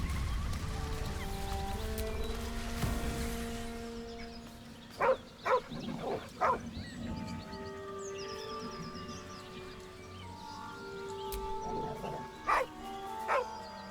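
A dog in the fantasy role-playing game Baldur's Gate 3 gives several short, sharp gruff vocal bursts in two clusters, set against a sustained ambient music score.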